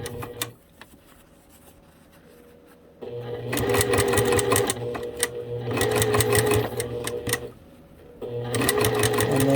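A sewing machine stitches fabric for improv curved quilt piecing, running in two long, steady mechanical bursts with a brief pause between, close and fairly loud with no talking.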